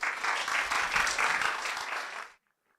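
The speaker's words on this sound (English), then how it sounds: "A round of applause to them, please." Sustained applause from a conference audience after a panel discussion, dense and steady, ending abruptly into near silence.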